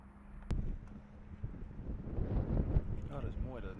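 Wind gusting into a microphone outdoors on a USA road trip, a low rumbling buffet that swells and rises, with a faint voice near the end.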